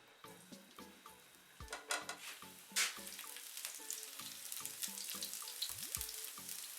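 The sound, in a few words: chopped garlic frying in cooking oil in a pan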